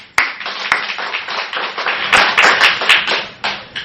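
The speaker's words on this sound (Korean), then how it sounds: "선한 일을 입으신 신실하신 하나님께 감사와 찬양과 영광의 박수를 올려드립니다" A church congregation claps in praise, many hands striking together in an uneven, lively burst, loud and close, with sharp individual claps standing out at the start and scattered through the swell.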